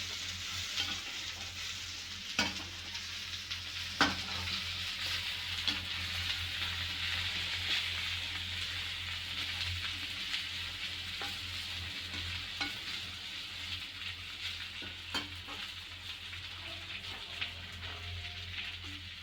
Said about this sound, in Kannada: ಹಾಗಲಕಾಯಿ, ಆಲೂಗಡ್ಡೆ, ಈರುಳ್ಳಿ, ಬೆಳ್ಳುಳ್ಳಿ ಎಲ್ಲ ನೀಟಾಗಿ ಮಿಕ್ಸ್ ಆಗಿ ಫ್ರೈ ಆಗಿದೆ